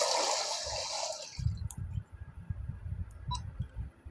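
A Water Gun attack effect in Minecraft Cobbleverse: a rushing, hissing spray of water opens the clip, then fades into softer sloshing and scattered bubbly drips and pops.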